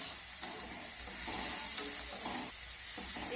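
Vegetables with tomato sauce and vinegar being stirred in a pan for homemade egg chowmein: a continuous close sizzle broken by scraping stirs and a few clinks of the utensil, with no voices.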